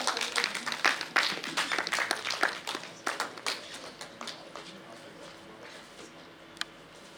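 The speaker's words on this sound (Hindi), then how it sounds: "एक बार जोरदार तालियों से स्वागत करते हैं" Audience clapping at a Jain community golden jubilee ceremony, welcoming the session chair: a burst of scattered hand claps that thins out over several seconds into a few isolated claps.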